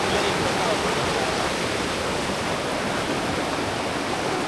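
The Labi River in Aurora flows with a steady, dense rush of water, loud and unbroken throughout, with no voices over it.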